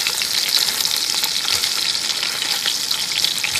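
Ground beef sizzles and crackles steadily in a pan over a campfire while being stirred and broken into chunks for cowboy hash, a loud, continuous frying hiss with no talk.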